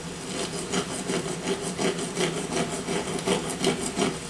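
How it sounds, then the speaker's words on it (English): A steady, rhythmic rasping as a pure magnesium fire-starting block is scraped with a blade, repeated strokes at close range with no voices. "This block right here is pure magnesium, which is scraped into a pile"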